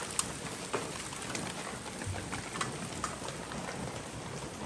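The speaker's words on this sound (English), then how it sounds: "Hopefully this rain will stop soon, where I can actually do something." Steady rain falling outdoors at an off-grid cabin build site, a continuous soft wash of drops with a few sharper taps on surfaces, moderately quiet and with no one speaking.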